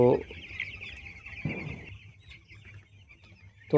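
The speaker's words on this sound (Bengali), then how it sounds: "আজ আমার পাখির বয়স 11 দিন, কালকে 12 দিনই পড়বে।" Eleven-day-old poultry chicks clucking and cheeping on a farm, a steady chorus of close chirps with louder bursts at the start, around the middle and at the very end.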